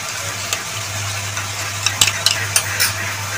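Water poured into a hot pan while cooking duck egg chokha, with loud close sizzling under scraping strokes and a few sharp clinks of a utensil against the pan.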